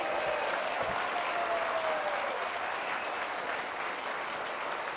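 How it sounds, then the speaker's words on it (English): A crowd claps steadily and fairly loudly throughout, with a brief faint whistle early on and the applause easing slightly toward the end. "Give them a big wave and a round of applause."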